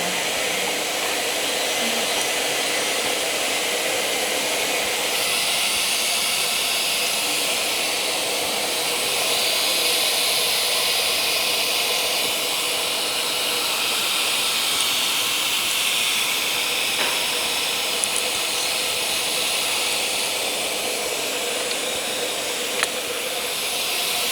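Motor of a CNC machine for boring door lock holes running steadily, a dense continuous whine and hiss that stays level throughout with no talking.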